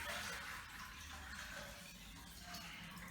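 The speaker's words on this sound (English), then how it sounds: "I don't want the water splashing around the edges" Water runs steadily from a tap into a polished silver bucket serving as a flower vase, a continuous close splashing fill with no pauses and no talk.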